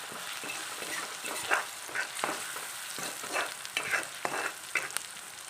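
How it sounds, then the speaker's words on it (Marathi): Chicken masala stirred into a sizzling tempering in a pan, a continuous close fry hiss with rhythmic scraping strokes of the spoon and a few clinks against the metal, no voices. "त्यानंतर आपल्याला ढवळून घ्यायचं आहे व्यवस्थित."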